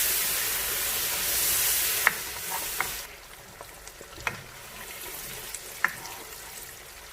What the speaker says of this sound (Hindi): मजीद भूनेंगे अब टमाटर डाल के।